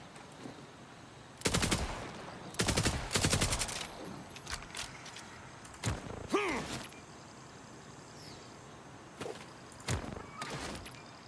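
Rapid bursts of submachine gun fire from Borderlands 4, several short automatic volleys separated by pauses, fairly loud and close, with a few single shots and mechanical sounds between them.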